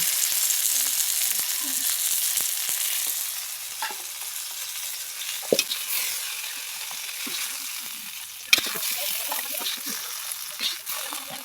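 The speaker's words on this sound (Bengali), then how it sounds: "সমস্ত সবজিগুলো খুব ভালো করে ভেজে নেব" Vegetables fry in hot oil in a pan, a steady bright sizzle broken by occasional clinks and scrapes of stirring, with voices heard faintly in the background.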